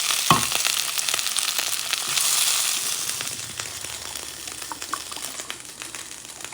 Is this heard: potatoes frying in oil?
yes